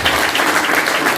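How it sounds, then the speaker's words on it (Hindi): A seminar audience claps in a dense, loud, steady burst of applause from many hands close by. "एक बार ताली।"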